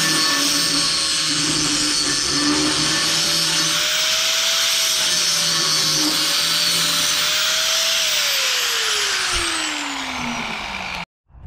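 A power tool cuts metal on the rear frame of a 1967 Chevelle: a loud, harsh, continuous whining grind with a slowly shifting pitch that drops near the end before cutting off abruptly.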